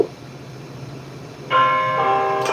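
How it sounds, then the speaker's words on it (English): A bell rings for Christmas, starting suddenly with a loud, sustained resonant tone that hangs on with a second strike near the end. "And that bell means it's Christmas."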